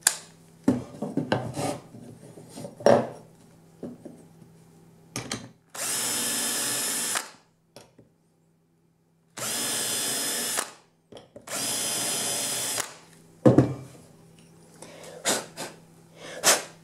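A centering drill bit bores a pilot hole for a hinge screw, running in three loud sustained bursts with pauses between, plus scattered handling knocks and clicks.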